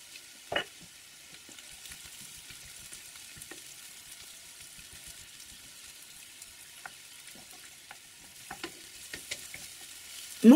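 Garlic fries in a little oil as a base for pumpkin cream soup, a faint steady sizzle carrying on throughout, with a few louder utensil knocks and stirring scrapes near the start and end.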